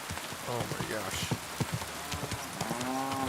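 Heavy rain pours in a medieval fighting simulator game, a dense hiss of drops under a man's chatter and intermittent clopping sounds.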